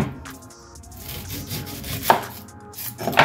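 Onions are chopped with a knife on a board in a home kitchen, a few sharp, close knocks spaced irregularly against a quiet background with faint rubbing between cuts.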